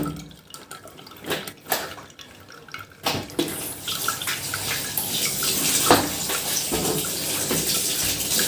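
Water poured into a bucket to rinse laundry, beginning with scattered splashes and drips, then a steady rushing stream filling the bucket, close by with no talking.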